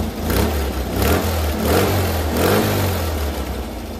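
A rebuilt 1600cc Type 1 Volkswagen air-cooled engine runs steadily close by, its throttle blipped in a few swelling revs over a constant low drone.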